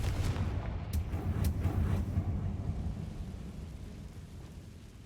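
The Confringo spell in Hogwarts Legacy sets off explosive blasts, a few sharp booming bursts followed by a rumbling roll that slowly fades, heard alone without talk.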